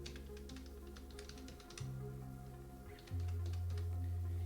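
A username is typed on a computer keyboard, producing a quick series of faint clicking keystrokes close by over a low electrical hum that shifts in pitch, with no talking.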